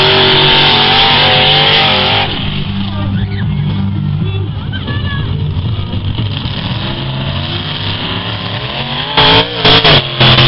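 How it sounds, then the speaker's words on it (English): A super modified race car with a 427 small block engine roars loudly and steadily at a short track event in Questa, New Mexico, its engine note rising and falling, with a crowd or announcer voice underneath. "427 small block engine on this baby."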